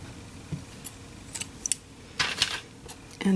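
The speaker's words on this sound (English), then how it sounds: "And then just cut your yarn." Scissors snip through yarn in a few quick, close metal clicks and snaps, scattered over a quiet moment at the end of a crochet piece, with no talking.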